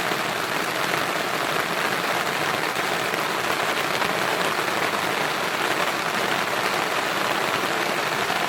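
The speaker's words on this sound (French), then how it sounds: "on a le déjeuner with ASMR de pluie" Steady rain pours down on a campsite in Gaspésie, a dense continuous hiss of drops hitting surfaces, even and unbroken throughout.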